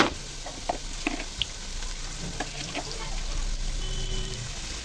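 Coconut paste going into taro stolons (kochur loti) frying in a pan: a steady soft sizzle with scattered clicks and scrapes of stirring, close and without talk.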